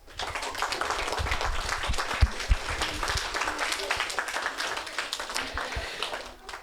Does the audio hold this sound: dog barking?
no